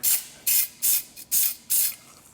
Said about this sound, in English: And I'm going to use just some bulk shop brake cleaner.